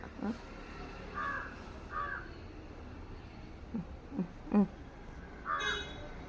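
A pet crow gives a series of short, hoarse caws and calls, scattered across a few seconds at close range, fairly faint overall with quiet room background between the calls.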